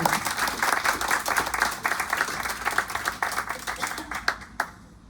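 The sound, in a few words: audience applause for poet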